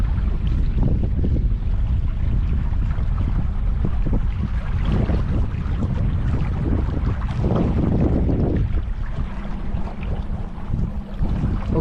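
Strong wind buffets the microphone during a boat ride near Hoover Dam, a loud constant roar of gusts mixed with engine and water rush, with no voices.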